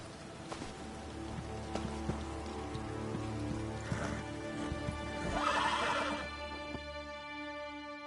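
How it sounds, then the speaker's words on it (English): A horse whinnies loudly in Elder Scrolls Online, with hoof clip-clops and a steady rain-like patter layered under sustained tonal ambience, the neigh swelling near the end before the scene quiets. "Kasura has agreed to let us borrow her horses."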